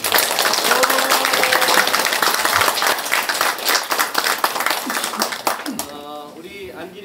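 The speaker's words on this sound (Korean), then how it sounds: "우리 이동진 청장님한테도 큰 박수 한번 좀 보내주세요." An audience at a Korean election campaign office opening gives a big round of applause, dense and loud clapping that fades out near the end as a voice starts speaking.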